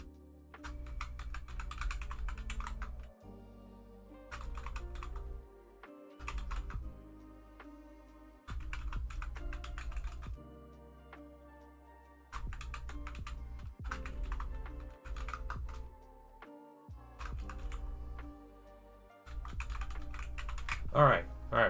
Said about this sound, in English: Tired of typing.